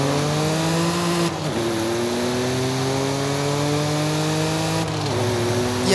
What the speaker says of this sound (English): in Forza Horizon 5, have a listen to how loud this car is